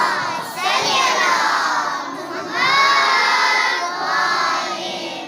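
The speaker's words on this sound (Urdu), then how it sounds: "ایک مرتبہ بلند آواز میں نعرہ صلوات" A large crowd at a school event chants salawat together in loud, unified bursts, three swelling waves of many voices in a reverberant space.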